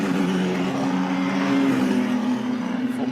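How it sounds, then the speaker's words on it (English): A race car engine roars loudly and steadily throughout at Ferrari Racing Days in Miami, a dense droning rumble that swells slightly midway without fading. "the noise from these cars is absolutely insane"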